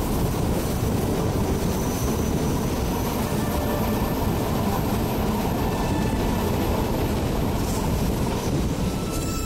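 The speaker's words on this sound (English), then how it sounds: "As the Rhaetian railways approaches the north side of the tunnel" A Rhaetian Railway train in the Swiss mountains near a tunnel gives a loud, continuous rumble of wheels and carriages with faint high squeals, steady throughout.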